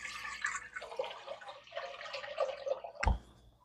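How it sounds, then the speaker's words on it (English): Water pours into a cooking pot on a stove for boiling tamales, a running splash with small drips, ending in a sharp clunk near the close. "In my pot, I'm going to be adding some water."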